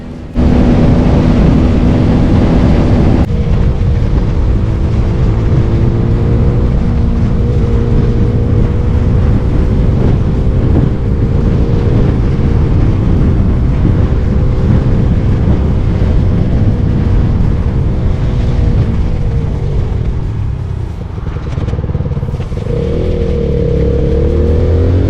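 A friend's motorcycle passes a rider on a Peugeot PM-01 125 on a country road. Its engine tone swells and fades under a constant loud roar of wind.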